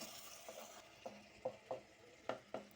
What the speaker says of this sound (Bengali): আর ভালো করে নেড়েচেড়ে মিশিয়ে দিচ্ছি।